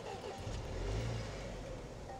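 Engine of a repaired, previously wrecked 2018 Land Rover Discovery 5 starting up, a brief low rumble that swells and settles into a steady idle, heard close with no talk.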